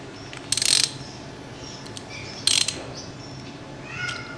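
A bolt on a Suzuki GS 150 SE motorcycle disc brake is snugged down with a ratchet, giving two short bursts of quick metallic clicking about two seconds apart, close and crisp, with faint tool taps between.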